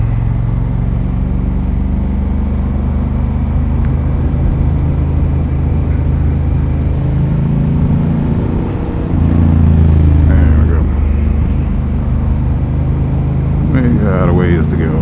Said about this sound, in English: getting used to the slow speed characteristics of the bike here as well